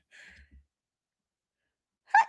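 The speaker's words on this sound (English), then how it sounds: "Could feel a sneeze coming." A single sharp, loud sneeze bursts out close by, following a couple of faint breathy sounds a moment earlier, with silence in between.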